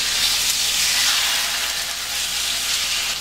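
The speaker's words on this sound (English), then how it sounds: "And we're going to put the seasoned side down." Seasoned, thinly flattened chicken searing in a hot pan, giving a loud, steady sizzle and hiss that stays even throughout, with no talking.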